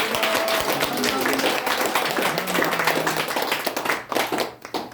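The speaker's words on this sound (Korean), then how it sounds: "하나님 앞에 감사하는 마음으로 박수 한번 보내겠습니다" Congregation clapping during a church's fourth-anniversary thanksgiving service, a fairly loud burst of hand claps for about five seconds, thinning and tapering toward the end.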